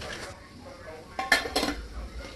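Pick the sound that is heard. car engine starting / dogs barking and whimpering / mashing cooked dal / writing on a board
mashing cooked dal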